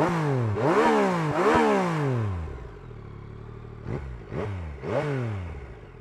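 A 2021 Yamaha MT-09 SP motorcycle engine is started and revved, with repeated rising and falling blips, a brief idle, then three sharper throttle bursts, loud and close.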